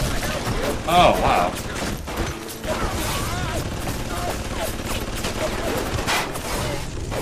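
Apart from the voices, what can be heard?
gunfire shooting at the player in the video game BioShock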